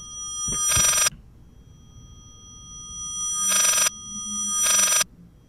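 An old-style telephone rings in the horror video game Layers of Fear, three sharp bursts of bell ringing separated by pauses over a quiet, eerie hum.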